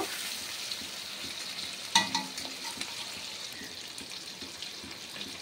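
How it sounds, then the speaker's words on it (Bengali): Onion and tomato hit oil tempered with cardamom, cinnamon and cloves and are stirred in a pan, a soft sizzle with a sharp clatter and a few scraping strokes. "এবার আমি পেঁয়াজ আর টমেটো দিয়ে দেবো। এটা একটুখানি নাড়িয়ে নেব।"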